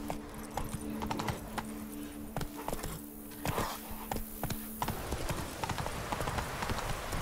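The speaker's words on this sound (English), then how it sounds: "I think that Roach is the most badly programmed horse in all of the games ever" Steady clip-clop of hooves from the horse Roach in The Witcher 3, a brisk walking rhythm of distinct hoof strikes over a continuous game soundscape with a low hum, fairly close and moderately loud.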